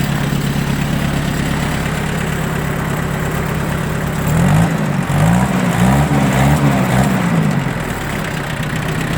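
A Mitsubishi MT1801D four-cylinder 18 hp mini tractor diesel idles evenly in the cold, a loud, steady close rumble with a slight rise and wavering pitch partway through.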